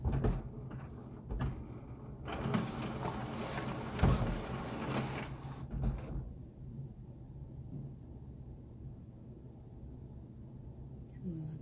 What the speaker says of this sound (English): Printer